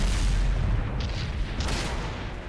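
A tank shot glancing off armor in a tank battle video game, heard as a dense, low, rumbling boom that fills the whole moment, with a couple of brief sharp metallic clanks riding on top.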